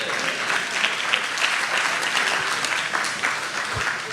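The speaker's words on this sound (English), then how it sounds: "let's clap it up for these pioneers" Steady audience applause at a talk, many hands clapping together in a dense, even roar at moderate loudness, held for several seconds without a break.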